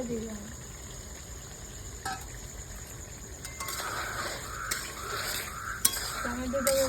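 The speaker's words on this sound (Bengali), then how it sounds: "ভালো করে নাড়তে হবে" Chicken and tomatoes stirred in a cooking pot for Lahori chicken, with a spoon scraping and clinking against the metal at intervals under a steady kitchen hum while a person talks.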